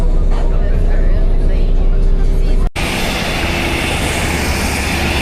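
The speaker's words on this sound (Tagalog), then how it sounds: "Gamay kay aeroplano na ba?" Small aircraft engine drone heard from inside an airport area, steady broadband roar with a brief dropout midway, continuous and moderately loud throughout.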